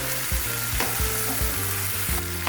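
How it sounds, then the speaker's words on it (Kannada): Sliced eggplant frying in hot oil, a steady loud sizzle with repeated scraping and stirring knocks from a spatula in the pan, close up and continuous, no voices. "ಚಂದಿಗೆ ಬದ್ನೆಕಾಯಿ ಎಣ್ಣೆಯಾಗ ಫ್ರೈ ಮಾಡ್ಕೋತೀನಿ ರೀ."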